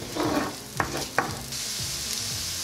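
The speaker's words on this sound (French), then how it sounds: "et les oignons que je vais faire revenir, on va les faire suer." Onions sweating over medium heat in a pan for chicken and shrimp fried rice, a soft steady sizzle with a few utensil knocks and stirring scrapes early on, close and quiet.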